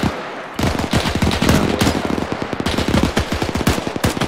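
Rapid bursts of automatic gunfire in an Arma 3 World War II battle near Sainte Marie, loud and close, with dense volleys of shots rattling continuously after a brief quiet start.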